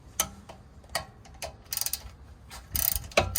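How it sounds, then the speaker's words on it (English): Ratchet wrench loosening a bolt on a Mercedes W220 rear suspension, quiet sharp mechanical clicks and short ratcheting bursts at irregular intervals, close by with no talking. "Take that bolt off."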